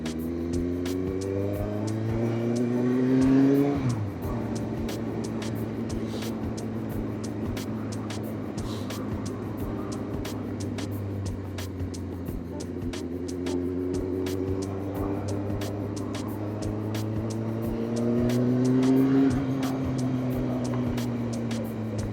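A loud Kawasaki ZX-9R motorcycle exhaust rumbles steadily nearby in city traffic, rising in pitch twice as it revs up and then settling back to a throaty idle.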